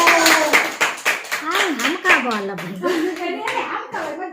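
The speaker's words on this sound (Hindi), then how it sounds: "मम्मी के लिए जोरदार तालियों के साथ स्वागत करें" Family members clap to welcome a mother at a Holi gathering, with brisk, uneven hand claps close by mixed with lively talk and a voice throughout.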